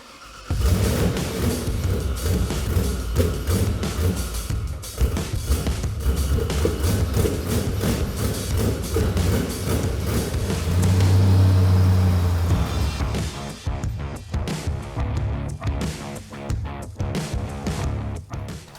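Supercharged car engine fitted with a ProCharger supercharger kit, running loud and close with a steady idle rumble, a stronger rev swell in the middle, then choppy revving bursts near the end.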